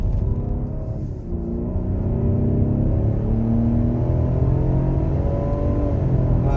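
A 2020 Ford Explorer ST's engine and exhaust pull hard under acceleration, a loud, continuous rising drone with climbing harmonics heard from inside the vehicle, with no talk.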